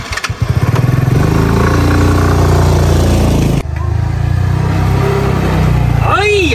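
A rented unlicensed motorcycle taxi's engine runs steadily and loud at close range, a low droning hum with one brief dip partway through, while people talk over it.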